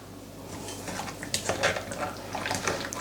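Spiced chicken marinade for chicken karahi being mixed in a bowl, with soft scraping, clinking and wet stirring sounds in an irregular rhythm, close and moderately quiet, no talking.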